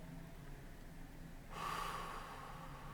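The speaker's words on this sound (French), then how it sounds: "troisième et dernière respiration de soufflet abdominal, vous inspirez" A single deep abdominal inhale during a relaxation breathing exercise, a soft rushing breath that starts abruptly halfway through and holds steady, close but faint against quiet room tone.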